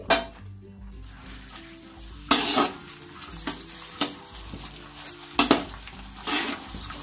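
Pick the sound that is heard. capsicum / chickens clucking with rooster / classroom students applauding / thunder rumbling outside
capsicum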